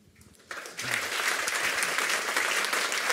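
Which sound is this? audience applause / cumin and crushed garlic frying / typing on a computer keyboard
audience applause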